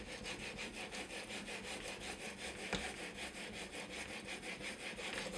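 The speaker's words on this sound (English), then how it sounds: "I'm sharpening on the fly and I can't start over" A knife edge is drawn again and again across a stone on an Edge Pro sharpener, a faint, steady, evenly paced scraping rhythm heard up close without speech.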